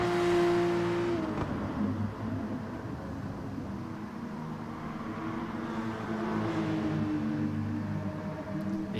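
Race cars in GT Sport, engines droning and revving steadily as the cars run close together toward a turn, a continuous moderate motor roar with no talk.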